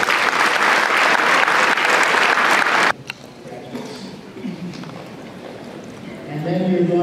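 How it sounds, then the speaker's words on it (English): Loud applause from a crowd at an engineering graduation convocation honoring graduating seniors, dense clapping that cuts off abruptly about three seconds in, followed by quieter room sound and a speaking voice. "Please give yourself a round of applause because you are all outstanding graduating seniors."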